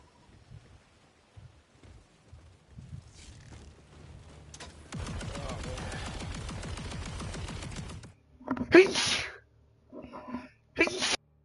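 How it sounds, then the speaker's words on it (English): A few sharp sneezes burst out near the end, following a long patch of crackling noise and some quiet shuffling. "those sneezes are driving me crazy today"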